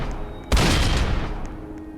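A single loud gunshot-like boom in a zombie night level of a video game, sharp onset then a rumbling decay over about a second, set against a quiet background hum.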